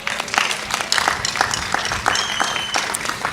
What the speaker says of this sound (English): let's give all our community volunteers a round of applause